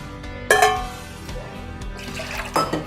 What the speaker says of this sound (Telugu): ఈ మజ్జిగ ఇందులో పోసేసుకోవాలి